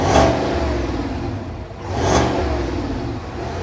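A Chevy Trail Boss pickup's 5.3-liter V8 revs loud and close through its dual exhaust, with two swelling throttle blips about two seconds apart over a steady idle rumble.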